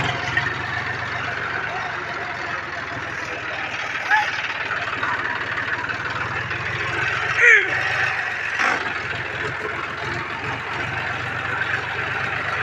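Steady drone of an old John Deere 5104 2WD tractor engine running continuously, close and moderately loud, with a few brief clunks and rattles along the way.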